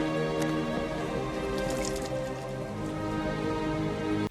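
Rain pours down in a scene from the film DragonHeart, a steady broadband hiss of heavy rainfall with scattered drips, loud and continuous, with no talking.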